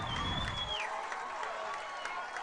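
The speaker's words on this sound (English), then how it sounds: "And that gets the crowd going." Crowd cheering and applause at a high-school football game after a 23-yard touchdown pass, a broad roar sustained for a couple of seconds with a whistle-like tone sliding down early on.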